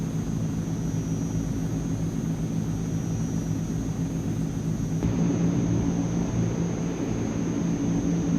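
Steady, loud drone of Transall C-160 turboprop engines during a climb in Microsoft Flight Simulator, a continuous roaring hum with an even tone and no breaks.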